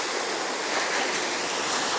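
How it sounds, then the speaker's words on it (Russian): Autumn sea waves at Alanya, Turkey, a continuous broad rushing wash of surf, close and steady with a gentle swell in loudness, no voices. "это не очень сильные волны, которые бывают в Алании осенью, зимой"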